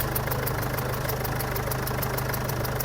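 A Ford Ranger BT50 diesel engine idles steadily nearby with a leaking injector seal, a continuous low rumbling drone with a faint rhythmic ticking knock throughout, no talking.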